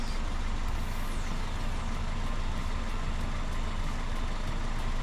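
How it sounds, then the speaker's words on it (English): A Toyota Corolla idles quietly, a steady low engine hum with a faint even hiss running unchanged throughout, heard nearby and alone. "Y'all hear how quiet this car is running?"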